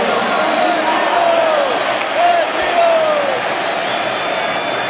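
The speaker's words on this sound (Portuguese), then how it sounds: "E merece todos esses aplausos aí." A stadium crowd at a Corinthians versus Vitória Copa do Brasil 2018 match claps and cheers as a player leaves the field, a dense, steady roar of applause with whistles rising above it.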